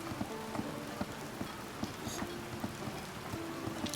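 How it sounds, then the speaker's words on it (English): Rain falling in the village-building game Patron, a steady hiss of rainfall with soft scattered drop taps and faint rhythmic clip-clop footsteps beneath a quiet tonal hum. "here come the rains."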